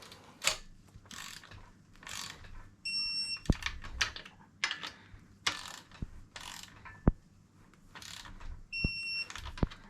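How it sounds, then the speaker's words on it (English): Short high electronic beeps from a digital torque wrench sound a few times amid ratcheting clicks and clunks as it is worked nearby on a Class 2 Nova race engine, with no talking. "that beeping noise is my digital torque wrench"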